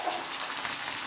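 Cumin, whole coriander seeds, garlic and green chillies sizzle in hot oil, a brief, even, bright hiss with no break.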